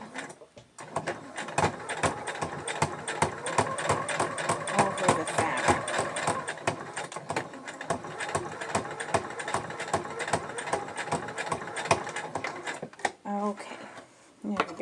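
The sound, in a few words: sewing machine stitching elastic onto fabric mask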